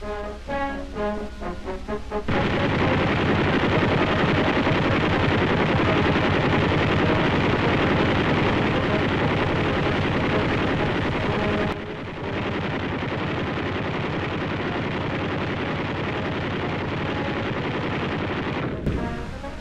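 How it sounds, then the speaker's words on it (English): Four heavy-barrel .50 caliber machine guns on a WWII M13 half-track anti-aircraft mount open fire after a short quiet start, a loud continuous roar of automatic gunfire that runs nearly twenty seconds with one brief dip partway through. "Those four heavy barrel 50s carry a lot of death for a baby this size."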